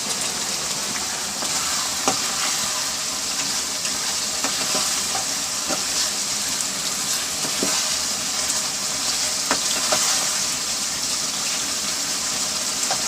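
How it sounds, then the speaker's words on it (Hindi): Soft tomatoes fry in a pan for an aloo gobhi matar sabzi, giving a steady, dense sizzle throughout with occasional light scrapes of stirring and no talk. "इनको इस तरह करके भून लेते हैं हम बस"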